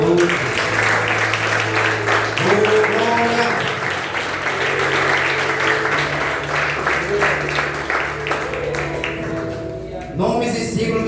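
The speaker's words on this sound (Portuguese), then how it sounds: "Aplauda o Espírito Santo essa noite" A church youth seminar crowd claps and cheers together in sustained applause, dense and lively throughout, with voices and some music mixed underneath.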